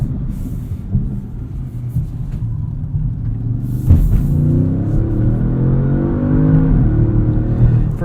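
Audi S7 launching hard, a deep engine rumble that swells into a sustained accelerating roar with rising, climbing tones, loud and close, with no talk.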